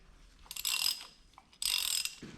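Ratchet wrench tightening bolts on a Ford Fusion engine during an oil leak repair, two bursts of rapid clicking separated by a short pause, close and clear with no talk.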